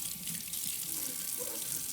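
Steady running tap water splashes over the metal part of a stainless steel cat water fountain as it is rinsed at a sink, a continuous close hiss with no voices.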